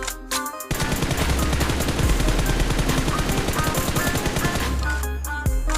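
Rapid automatic gunfire from a mobile shooter game rattles on continuously for several seconds, loud and dense, with short pauses at the start and end.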